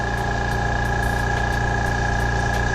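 Small airbrush compressor running steadily as it fills its 3-liter tank, a constant close motor hum with faint regular ticking, no voices.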